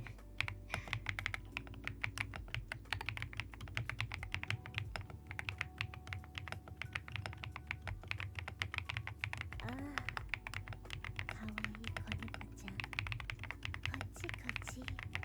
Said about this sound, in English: I have a Ducky Sakura pink keyboard